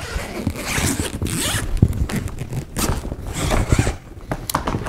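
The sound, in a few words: zipper being fully opened on expandable suitcase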